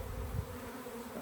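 A crowd of honey bees clustered at a beehive entrance hums in a constant, even drone close by, one brief louder swell briefly rising above the steady buzz.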